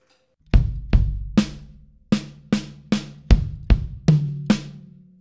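A gospel chops drum fill on kick, snare and tom: about ten hard, close strikes in quick pairs, the kicks thumping under snappy snare and tom hits, played alone.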